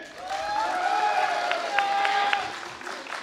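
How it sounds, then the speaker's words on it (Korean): An audience gives warm applause at a Gwangju Buk-gu A public candidate interview screening held by the People's Party. Steady clapping fills the room alongside a faint ringing tone, with no one speaking over it. "인사할 때 뜨거운 박수로"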